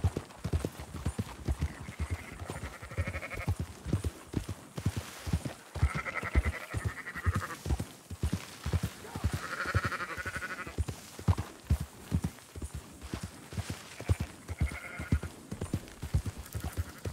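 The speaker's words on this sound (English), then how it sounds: "Marston, why don't you leave the sheep to me?" Horse hooves clip-clop steadily through the Red Dead Redemption 2 countryside while sheep bleat repeatedly over them, several clear bleats rising above the rhythmic hoofbeats, with no talk.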